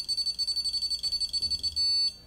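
An Intelbras ANM 24 Net alarm panel beeps in a fast, steady run of short tones while arming fails with an open zone, then gives one longer continuous tone before it stops.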